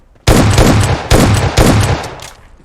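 Three loud, close shotgun blasts from PUBG Mobile, each a sharp crack with a short decaying tail, fired in quick succession.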